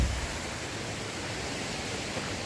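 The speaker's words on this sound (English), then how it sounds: "Nice flowing stream there," A creek flows beside an old forge road on the Appalachian Trail, a soft, even rushing wash of water that stays steady and moderately faint from start to finish.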